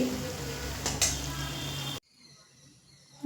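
Phuluri fritters fry in hot oil over a medium flame, a close, steady bubbling sizzle that cuts off abruptly midway, leaving near silence.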